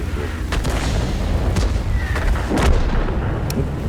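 Dull booming tank gun shots in a video game go off a few times over a dense, continuous rumble of battle noise, loud and close.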